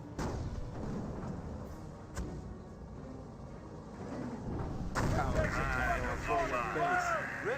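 Artillery and grenade fire from a Company of Heroes battle rumble on in the distance, with occasional dull thuds and a burst of louder booms near the end, all under a talking voice.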